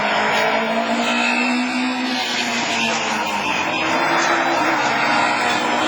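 Division 4 rallycross race cars at Mayenne in 2011, roaring loudly and continuously as engines rev and whine at close range, with tyre noise mixed into the dense, sustained racket.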